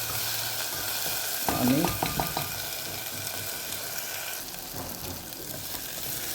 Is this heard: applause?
no